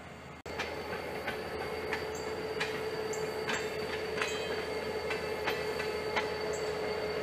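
A train rolls slowly into a shortline railroad's four-track yard, wheels squealing in steady high tones with rhythmic clacks as cars pass over the rails.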